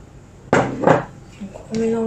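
Cookie dough being stirred with melted chocolate in a bowl, a sharp utensil clack against the bowl followed by scraping and thuds over a few short strokes, with a low hum underneath.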